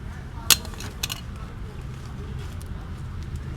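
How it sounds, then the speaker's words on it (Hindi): A new NSK clutch bearing for a Suzuki Ravi spun by hand in a workshop, giving a sharp metallic click followed by a brief light whirring rattle, close and fairly quiet over steady background noise. "वो भी घुमा के चेक कराता हूँ आपको।"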